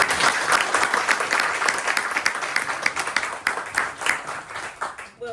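An audience at the One Book One New Orleans 2026 kickoff event applauds the authors, a dense, loud, sustained clapping from a crowd that thins slightly before stopping.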